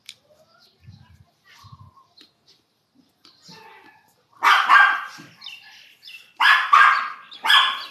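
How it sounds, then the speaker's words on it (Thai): Several loud, sharp dog barks in quick bursts after quieter rustling and small sounds, close by. "เขาอยู่บนถนนหนูจะไปเห่าเขาได้ยังไงเนี่ย"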